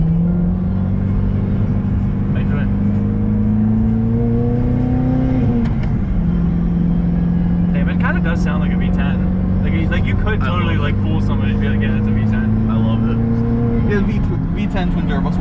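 Twin turbo V8 full-carbon supercar engine droning loud and close, holding a steady low tone that drops briefly as revs change, while someone talks over it.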